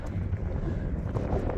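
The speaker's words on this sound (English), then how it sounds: "It's windy" Steady wind buffeting a microphone, a dense low rumble with gusts swelling and easing throughout, no voices.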